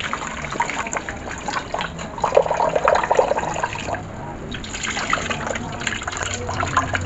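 Water is poured into a pot while cooking biko, the sticky rice cake, a steady splashing gush close by that swells in the middle, with faint background noise.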